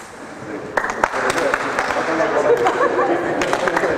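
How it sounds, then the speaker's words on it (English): Pairs of participants at a coaching clinic clap hands in time with a partner, scattered sharp claps over a busy room murmur of chatter and movement. "You have to clap before you make. And it has to be at the same time with your partner"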